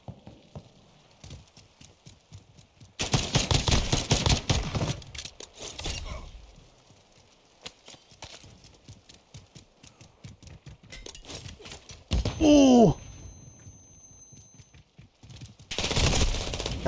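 Call of Duty MW2 gunfire in a 1v1 match: fast ticking shots run throughout, broken by several loud, dense bursts of sustained fire. A brief tonal sound cuts in partway through, and the guns are heard without talk.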